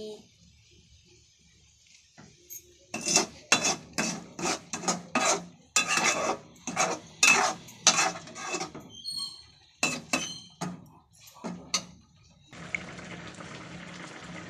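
Repeated scraping and clinking of a spoon stirring vermicelli kesari with sugar in a pan, rhythmic strokes close by, followed by a steady bubbling simmer.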